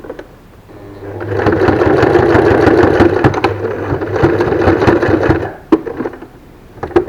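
A sewing machine finishes a seam on a fabric ear protector for a face mask, running steadily at close range for about five seconds before stopping, followed by a few faint handling clicks.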